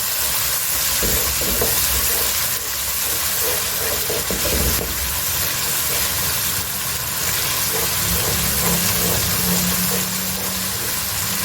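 Spiced masala sizzles loudly and steadily in a pan as it is mixed for restaurant-style Shinwari chicken, a dense continuous fry with scraping stirs throughout and no voices.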